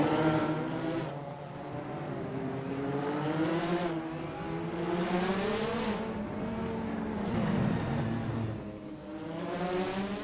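Race car engines in a racing video game, several cars running nose to tail in a close battle, their high whining tones rising and falling together through shifts, loud and continuous with no talking.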